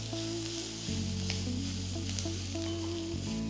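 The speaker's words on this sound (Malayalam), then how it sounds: "ഇതെല്ലാം കൂടി ഇട്ടൊന്ന് വഴറ്റുക." Green chillies and curry leaves sautéing in a little oil for a Kerala onion theeyal, a continuous even sizzle with faint stirring, heard alone over a steady low hum.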